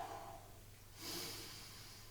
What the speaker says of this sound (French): Respiration profonde.